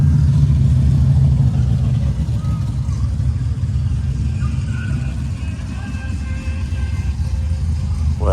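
A 1965 Dodge Coronet 500 with a 426 Max Wedge V8 runs close by, a loud, deep and steady engine rumble with faint higher tones riding above it.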